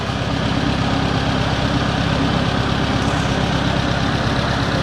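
An old Ford 8N tractor, its engine once stuck and full of water, idles steadily in a shop with a close, even, low chugging rhythm that runs on without interruption.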